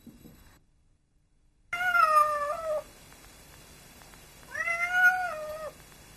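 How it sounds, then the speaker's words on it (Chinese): A cat meows twice in a Chinese TV drama scene, two drawn-out, wavering cries a few seconds apart, close and clear against a quiet background. "我看见一只猫。"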